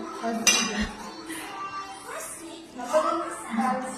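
Dishes and cutlery clink during a Bengali home meal at a relative's house, with a few sharp clinks close by under steady family chatter; people talk throughout.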